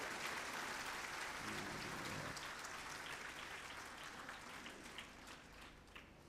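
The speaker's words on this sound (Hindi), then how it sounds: "नहीं है तो बजाओ तालियां दिलेरी से।" Clapping from a large audience at a religious festival gathering, a dense, faint wash of hand claps that runs continuously and tapers slightly toward the end.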